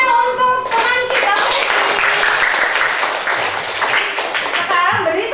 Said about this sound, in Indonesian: beri tepuk tangan untuk teman kita